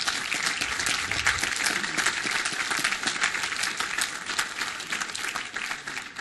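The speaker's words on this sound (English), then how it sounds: "Let's have a round of applause for Art Cam." Sustained crowd applause fills a city council chamber for Art Cam, director of the Las Vegas Cruisin' Association: dense, even clapping at steady loudness for about six seconds with no talk over it.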